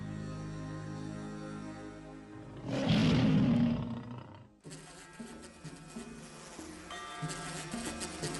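A loud, rough tiger roar swells up and fades, with music playing before and after it.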